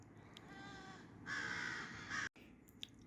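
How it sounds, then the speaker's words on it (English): Crows caw repeatedly at a distance, their harsh calls overlapping in a steady chatter with a brief louder burst partway through. "you'll hear the crows yakking in the background"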